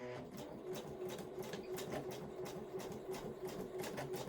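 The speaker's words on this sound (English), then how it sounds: "I'm sewing right on the little stitch lines, right sides together again." Sewing machine stitching a fabric hipster bag, a quick, even mechanical clatter running steadily at close range, quiet overall and with no talking.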